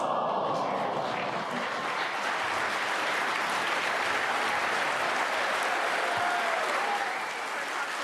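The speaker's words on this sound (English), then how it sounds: "The burst of applause tinged with groans as well." A large crowd at the World Snooker Championship bursts into sustained applause, a broad wash of clapping at a distance, with a few murmured groans mixed faintly into the noise.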